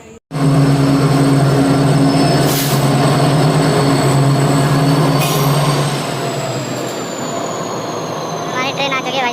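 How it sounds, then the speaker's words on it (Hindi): Passenger train rolling into a railway station platform, a loud close rumble of wheels and carriages with brief horn and squeal tones, slowly easing down, with people talking in the background. "हमारी ट्रेन आ चुकी है"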